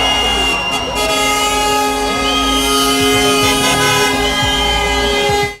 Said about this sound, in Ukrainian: а машини, що проїжджають повз, гучно сигналять